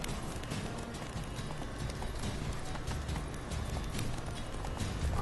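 A horse clip-clopping in the Witcher 3 video game, steady rhythmic hoofbeats running continuously under a dense game soundscape, moderately quiet in the mix.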